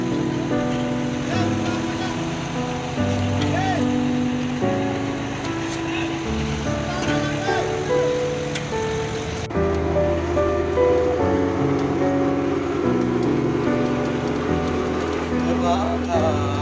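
Steady heavy rain pours during road construction on the Ponnalai road, with machinery working, forming a dense continuous wash of noise that stays loud throughout with a low mechanical rumble underneath.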